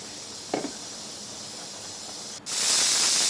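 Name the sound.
pressure cooker whistle releasing steam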